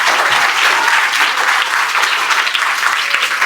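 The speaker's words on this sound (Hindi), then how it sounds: "ताली बजाओ भाई के लिए" Schoolchildren at a public school clap together in sustained, even applause that holds steady throughout, a dense wash of hand claps from a classroom-sized group with no talking.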